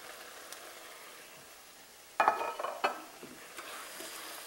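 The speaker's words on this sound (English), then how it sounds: "Coat pieces with spices that is in the pan already." Lamb chops stirred with their juices and spices in a pan give a soft background sizzle, broken mid-clip by a brief burst of scraping and clattering from utensil against pan, then fading back to a low fry.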